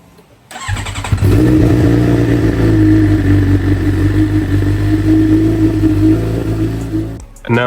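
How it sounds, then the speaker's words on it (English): A Suzuki GSX-R 750 sportbike, a crashed salvage machine being rebuilt, cranks over briefly, fires up and settles into a loud, steady close-range idle that runs for several seconds before cutting off. "I'm gonna go ahead and start the motorcycle up."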